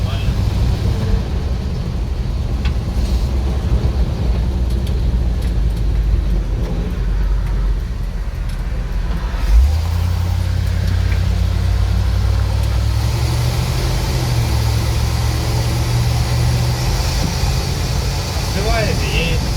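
A ZIL truck with ignition and carburetor trouble and an overheating fuel pump drives along, its engine a loud, steady low drone heard from inside the cab, with voices talking over it.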